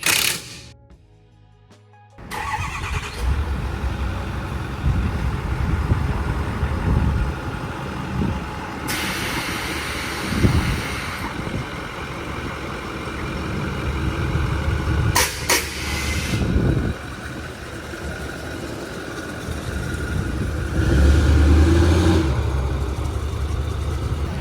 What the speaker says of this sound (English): I'm letting the big truck warm up.